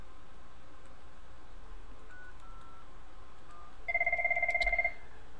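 An IP Communicator soft phone places a call to an HQ desk phone, giving a near, steady electronic ring tone that sounds in one short burst of rapid pulses over quiet room hiss.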